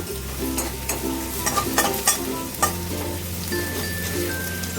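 Chopped garlic being stirred in a hot pan for chilli garlic prawns, a steady close sizzle of frying with repeated scraping clicks of the spatula over about five seconds, no voices.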